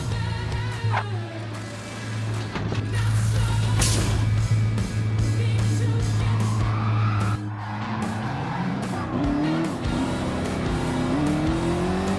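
Modified street cars including a Corvette race in a Gran Turismo 7 750pp championship, engines roaring and revving continuously with tires squealing and cars passing close, loud and dense with no talking.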